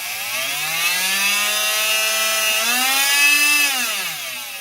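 Makita TM3010C oscillating multi-tool running on high, a loud steady whine with a rich buzzing tone that dips briefly and rises again midway, alone with no talk.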